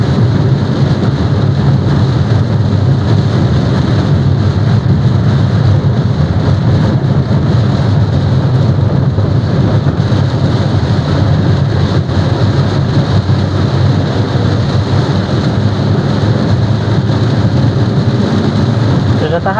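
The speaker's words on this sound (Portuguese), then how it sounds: "que a chuva tá intensa" Heavy rain drums steadily on the roof and windows of a moving Volkswagen Gol G6 1.0 car, a loud continuous wash of noise from inside the cabin with no break.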